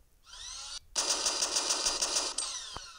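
Rapid automatic gunfire from a gun mod in Minecraft Pocket Edition, a steady burst of evenly spaced shots lasting about two seconds, loud and close, preceded by a softer mechanical whir and ending with a single sharp click.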